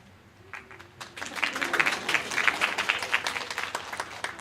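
Church congregation claps after a sermon, a few scattered claps at first swelling into steady, fairly close applause that keeps going.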